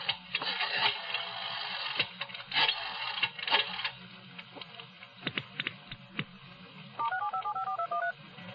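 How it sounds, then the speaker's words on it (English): Touch-tone telephone dialled from a public phone booth, a run of sharp key beeps and clicks followed by a quick rising-falling tone sequence near the end, close and alone with no talk. "I tried to call Lou again."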